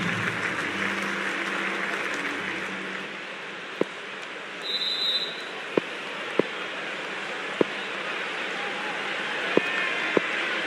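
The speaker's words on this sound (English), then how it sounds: "already the crowd is up and about" Crowd applause fills a stadium in the Cricket 24 video game during an India vs England Test match, a dense, steady wash of clapping lasting throughout with a few faint sharp clicks.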